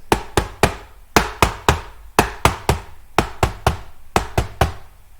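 Hand tapping imitates an S3 heart sound: sharp knocks grouped in threes, repeating steadily and close, with no talk over it.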